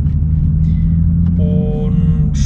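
A stage 2 tuned Toyota Supra with a downpipe, engine idling while warming up, a steady low rumble close by with a few faint higher tones over it.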